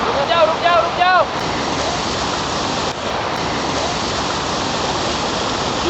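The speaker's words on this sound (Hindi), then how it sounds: "फाइनली हमने नदी क्रॉस कर ली, पर संजय सर का एक जूता बह गया" A mountain river rushes loud and constant during a trek crossing toward Pindari Glacier, with broadband water roar throughout and a few brief whistle-like calls or voices early on.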